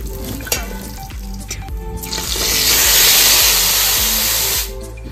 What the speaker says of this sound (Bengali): কেমন হচ্ছে ভাজা?